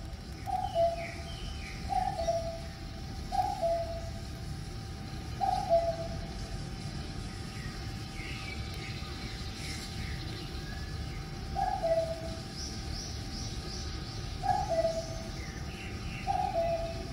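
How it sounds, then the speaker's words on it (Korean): A common cuckoo calls its two-note song several times at a steady pace, then pauses before a few more calls, over a low rumbling background. "그 뻐꾸기 소리부터 좀 잠깐 들어보겠습니다"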